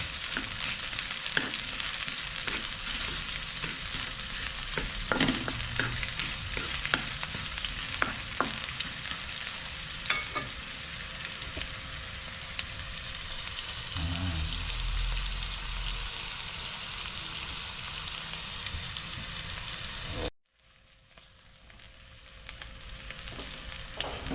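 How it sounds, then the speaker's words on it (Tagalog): Garlic and onion sauté in a hot pan for a Filipino sotanghon guisado, with a steady close sizzle and occasional stirring scrapes, then the frying drops away sharply near the end. "Yung ating garlic, tapos onion. We're going to saute lang natin sila."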